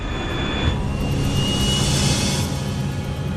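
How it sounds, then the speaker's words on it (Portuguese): A Fine Air cargo jet roars down the runway at takeoff power, a steady, loud, broad engine rumble and whine that swells and holds without letting up, with no voices over it. "O avião levanta voo da pista."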